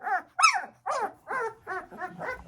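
Large, agitated puppies bark in a quick series of about six loud, close yelping barks with whiny, crying tones, evenly spaced and with no talk over them.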